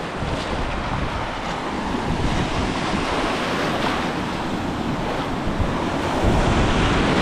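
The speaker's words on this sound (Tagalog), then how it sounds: "Ramdam na ramdam ko yung alon." Ocean waves surge and wash continuously with steady broadband roar, wind buffeting the microphone throughout, no voices.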